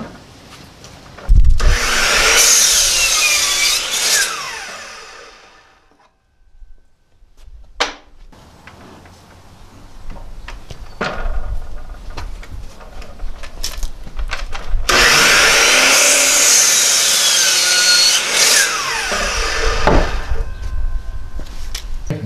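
A handsaw cuts through a wooden board to trim out a knot, in two loud close bursts of rapid back-and-forth strokes separated by a quieter pause with small knocks and handling sounds.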